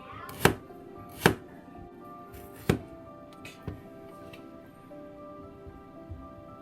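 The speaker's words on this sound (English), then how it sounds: "This ginger we just first slice it. Try that as thin as possible." A knife cuts through ginger on a cutting board in a handful of distinct, crisp thunks spaced about a second apart, fading to lighter taps toward the end, with no speech.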